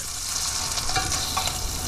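Spam sizzles steadily in a hot pan for a Spam musubi, a loud, continuous crackling hiss with a few brief stirring scrapes and no voices.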